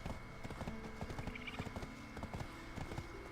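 A horse's hooves clip-clop in a steady, quick rhythm in the online game Black Desert Online, close and clear over a faint ambient hum.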